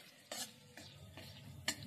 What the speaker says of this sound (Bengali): এরপর কাজুটা ভেজে নিচ্ছি।